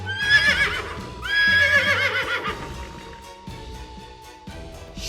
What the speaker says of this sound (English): Surprise! It's a horse. The horse goes...